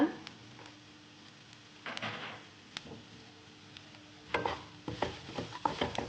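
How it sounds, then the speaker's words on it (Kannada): Soft spoon scrapes stir half a teaspoon of turmeric into fried onions for pepper chicken, quiet and intermittent, growing busier toward the end over a faint sizzle. "ಚೆನ್ನಾಗಿ ಮಿಕ್ಸ್ ಮಾಡ್ಕೋಬೇಕು"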